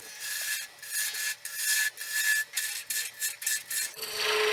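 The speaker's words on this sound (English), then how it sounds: "Let's get rid of some of this waste wood and go back to my bowl gouge again." A bowl gouge cuts away waste wood on a small woodturning lathe piece, giving repeated close scraping, hissing passes in a rhythmic series of strokes with short pauses between them.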